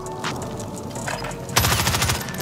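Gunfire in the video game Warzone, a rapid burst of sharp shots with a loud final crack, near and dense, with no talk over it.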